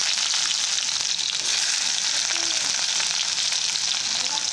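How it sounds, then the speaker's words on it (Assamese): Bay leaves and chopped onions fry in hot oil for a pork curry, giving a steady, close, hissing sizzle that runs unbroken the whole time, with no voices over it. "ৰৈ যোৱা তেলখিনিতে মই ইয়াত তেজপাত দিছোঁ আৰু পিঁয়াজ দিছোঁ কাটি থোৱা"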